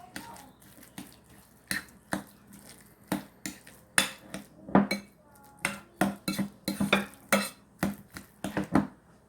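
A spoon mixes ingredients in a bowl at a home kitchen, making a rhythmic run of close clinks and scrapes in quick irregular strokes over about nine seconds, without speech.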